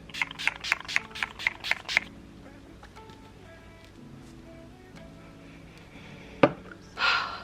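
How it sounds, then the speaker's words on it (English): A rapid series of short pump sprays of makeup setting spray onto a face, about eight quick bursts, followed by quiet rustling and a final spritz near the end. "Okay, so now I'm going to spray my face."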